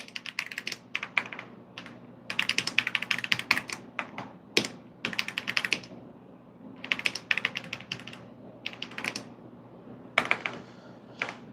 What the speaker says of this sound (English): everybody likes the sound of a mechanical keyboard